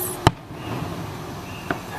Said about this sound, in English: Woo, fireworks.